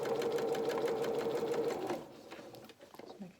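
Sewing machine stitching a seam on denim dungarees, a fast steady needle rattle for about two seconds that then stops, followed by quieter handling noises and a soft voice.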